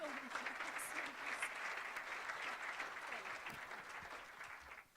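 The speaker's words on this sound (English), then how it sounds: "could I ask for a big round of applause for Natalia and a wonderful moderator?" Sustained applause from a seated audience for a panel guest and moderator, a steady dense wash of clapping that fades slightly toward the end, fairly distant and soft.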